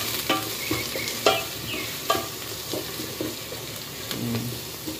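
Ginger and onion sauté in a pot for chicken sinigang, giving a steady close sizzle broken by sharp scraping stirs and clinks from the spoon every second or so.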